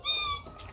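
A single drawn-out meow from a house cat, close and clear, tapering off at the end over faint background noise.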